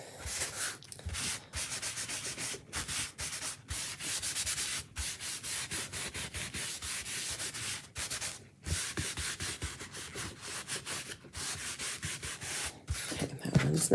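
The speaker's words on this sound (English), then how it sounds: "I'm just going to buff it nice and smooth." A paper towel buffs wax smooth over a chalk-painted Hanukkah menorah craft piece, giving a steady, close dry rubbing and scrubbing sound with brief pauses between strokes.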